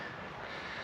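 A crow caws at Bolsover Castle, a steady harsh call running through the short moment over a dense outdoor background, moderately loud and with no talk over it.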